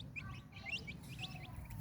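Young chicks peep in quick, high repeated chirps while chickens cluck nearby, a soft close flock chatter over a low steady background hum; the birds are Hint roosters and hens with their chicks.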